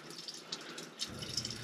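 Water running steadily from a Triflow mini tap fitted with a newly changed filter, a soft continuous hiss with a slight rise in flow partway through, fairly quiet and heard alone.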